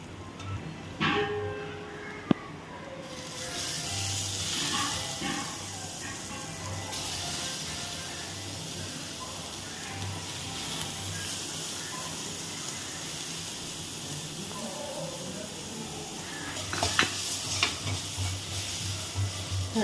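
Sliced onions and chana dal fry and sizzle in a pan for cabbage poriyal, a steady close hiss with occasional stirring scrapes and light clinks of the spatula throughout, and no talk.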